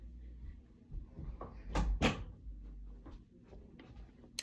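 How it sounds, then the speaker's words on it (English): An indoor door being shut, with a couple of sharp knocks close together near the middle, followed by faint lighter bumps in a quiet room. "You might shut my door."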